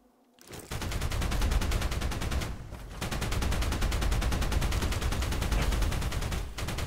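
Sustained automatic gunfire from a turret shooting the ground in the video game Outpost Infinity Siege, a loud, continuous rapid rattle that starts abruptly, pauses briefly midway, then resumes steadily.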